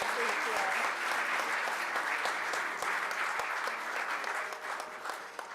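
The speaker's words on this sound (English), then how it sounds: "Can we give another round of applause to our excellent keynote speaker, Ms. Jill Schmidt?" Sustained audience applause for the keynote speaker at a college commencement ceremony, dense steady clapping filling the hall for several seconds before tapering slightly at the end.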